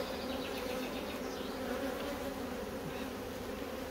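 A honeybee colony buzzes at the hive, a queenless colony recovering after swarming, making a dense, steady hum of many bees close by with no voices over it.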